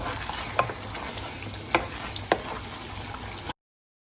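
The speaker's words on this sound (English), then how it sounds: "give it a stir. Mix the mutton with the masala." Mutton being stirred into masala in a frying pan: a soft steady sizzle with three distinct scraping strokes of the spoon, close and fairly quiet, cutting off abruptly near the end.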